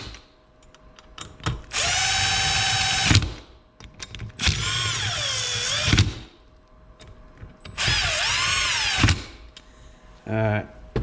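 Power drill spinning bolts down on a Honda TRX 450ER engine, running in three sustained bursts of about one to one and a half seconds each. Each whine rises and falls in pitch with light clicks between runs and a short ratcheting rattle at the end.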